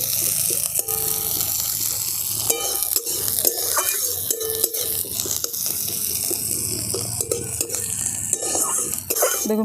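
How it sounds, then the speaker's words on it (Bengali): Onions are stirred in hot oil in a pan, with a constant sizzle and hiss broken by frequent scraping and knocking of a spoon against the pan, heard close up without talking. "দেখুন পেঁয়াজটা একটু হালকা করে নেড়ে নিয়েছি"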